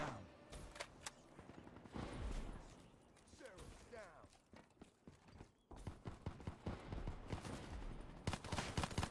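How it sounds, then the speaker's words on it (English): Gunfire crackles in a shooter video game where shotguns are in play, with bursts of sharp rapid shots and clattering mechanical hits spread through the clip, loud and close, some sections quieter between volleys. "I heard you shooting me, but I didn't know where from"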